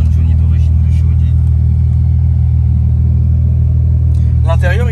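A 1999 Audi drives through a tunnel, its engine and road noise making a loud, steady low rumble that stays heavy from start to finish, with a brief warbling tone near the end.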